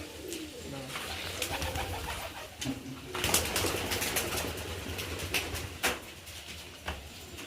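Kalanka pigeons coo softly in low repeated calls with some fluttering and rustling nearby, a voice occasionally audible in the background.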